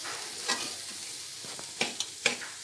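Moong dal being lightly sautéed dry in a pan for ladoos, a soft steady sizzle with a few scraping stirs of a spoon close by, no voices.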